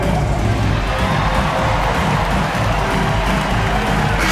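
A packed NBA arena crowd roars for the Detroit Pistons against the Golden State Warriors, a loud, dense, sustained wall of cheering with no break.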